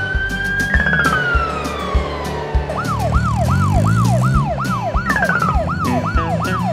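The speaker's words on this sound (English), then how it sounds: "Brazil. Police car." A Brazilian police car siren sounds loud and near, opening with a steady tone that slides downward before switching to a quick repeating whoop that cycles about twice a second, with short horn-like blasts breaking in over the engine.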